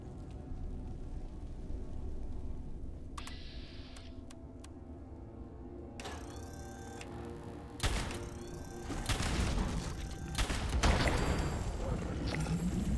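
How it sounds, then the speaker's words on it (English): Gunfire in the video game Fallout 76 comes as a few sharp, separate shots and thumps over a low, steady game ambience, growing busier toward the end. "We're just going to try to shoot him right in the face here."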